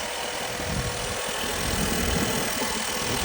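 Turbocharged truck engine with a bad head gasket idling nearby, a steady low rumble with a slightly uneven, knocking pulse under a broad mechanical hiss, no voices.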